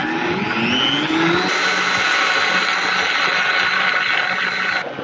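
A blender whipping cream whirs at high speed, its motor pitch rising and then settling into a steady whine that cuts off near the end.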